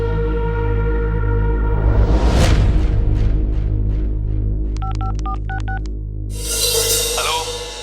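A telephone is dialed in a TV crime drama: a quick series of distinct keypad beeps sounds over loud, steady background music.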